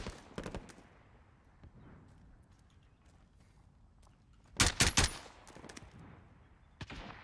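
Bursts of gunfire in the Warzone battle royale game: a short volley near the start, a louder cluster of rapid shots around the middle-late section, then one more burst at the end, with quieter ambience between.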